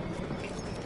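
Horse hooves in Battlefield 1 amid battlefield noise, a short quick patter of muffled clip-clop beats, fairly faint, lasting under a second.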